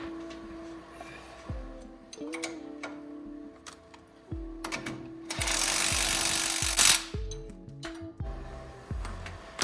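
Mechanical clicks and metallic ratcheting ring out as a 19mm bolt, washer and nut are fitted to the lower control arm and strut of a Toyota Prado KZJ90 during a lift kit install, with a louder rushing stretch midway, close up and without talk.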